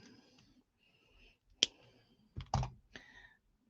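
A jewelry wire cutter snips wire for a flower bracelet: a sharp click near 1.6 seconds, then two louder snaps around 2.4–2.7 seconds and a softer one near 3.0, close and crisp against near silence.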